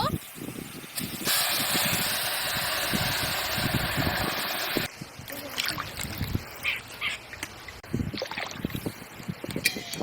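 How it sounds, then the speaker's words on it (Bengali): Water poured into a pot for sugar syrup, a continuous rushing splash for several seconds, followed by quieter clatters and handling of the pot. "একই বাটির মাপে আমি 4 বাটি জল দেব।"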